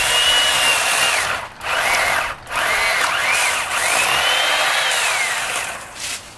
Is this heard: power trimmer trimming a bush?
yes